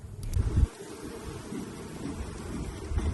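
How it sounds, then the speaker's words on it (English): Honeybees buzz at a beehive in a low, steady, fairly faint drone, with a couple of soft thumps near the start. "the bees buzz when they're busy"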